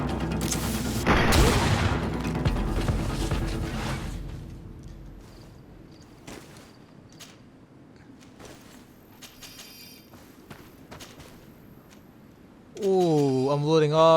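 Gunfire in the fantasy game GreedFall: a loud volley of shots up front, then sparse scattered pops and clatter over a low ambient bed, ending with a rising warbling tone and voice.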